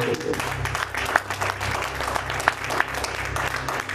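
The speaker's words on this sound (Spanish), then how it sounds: "denle un fuerte aplauso" Steady applause from a church congregation, dense and sustained, with a few sharper claps standing out.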